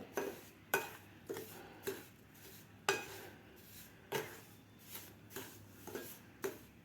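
A spoon presses and stirs moong dal flour roasting in a pan, scraping metal in a steady rhythm of about a dozen soft knocks, quiet and close.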